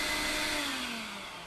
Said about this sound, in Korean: 이 상태에서 그냥 문을 열고 한번 다시 켜볼게요. 청소기.